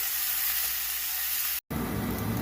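Onions and peas sizzle steadily in a pot for Kanda Pohe as they are stirred, a dense close frying hiss that breaks off briefly near the end before resuming louder.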